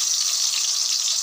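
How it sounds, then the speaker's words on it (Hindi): Potatoes fry in oil in a kadai on a gas stove, giving a steady, close hiss of sizzling that stays even and unbroken throughout. "अभी ये जो हमारे बटाटे हैं हम इसमें डाल के फ्राई करके लेते हैं"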